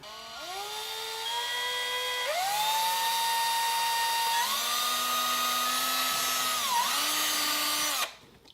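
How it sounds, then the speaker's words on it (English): A power drill bores a pilot hole through the center of a plastic toy car headlight, its whine climbing in steps as the motor speeds up and holding steady before cutting off abruptly at the end. "So we'll drill a pilot hole in the center of the light."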